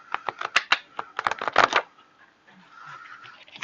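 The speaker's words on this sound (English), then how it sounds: "Let's just try to give them a good old shuffle." A deck of tarot cards being shuffled by hand, with quick bursts of crisp flicking and riffling clicks that come in uneven clusters, close and clear, then fade to quieter rustling.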